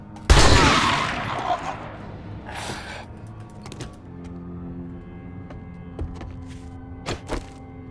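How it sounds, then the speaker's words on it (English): Shotgun blast in the survival zombie game 7 Days to Die, one loud booming shot at the start followed by a decaying tail and several quieter sharp clicks and thuds over a low background hum. "This horrible shotgun."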